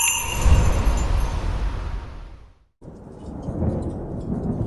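A sudden thunderstorm brings a loud, rumbling roll of thunder over steady heavy rain, which cuts out for a moment and then returns as a constant hiss.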